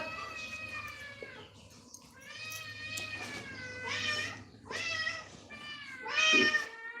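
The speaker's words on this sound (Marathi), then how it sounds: "तुला मांजरी बघायची का आमच्या घरात? 2-3 मांजरी आहेत." Domestic cats in a home meowing repeatedly, several drawn-out, fairly close calls rising in strength toward the end, with a faint low hum beneath.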